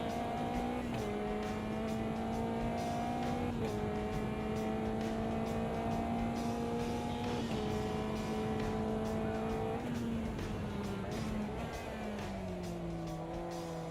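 Race car drifting in Automobilista 2, with a loud continuous engine drone that steps up and down through gear shifts and steady tire squeal, close and unbroken.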